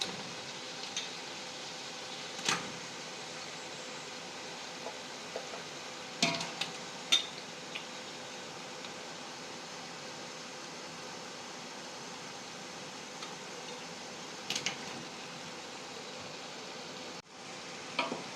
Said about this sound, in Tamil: கறி சேர்த்தாச்சு. கறி கொஞ்ச நேரம் நல்லா வதங்கட்டும்.